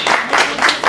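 An audience applauds at an African Traditional Medicine Day celebration, giving a brief, steady burst of clapping from many hands.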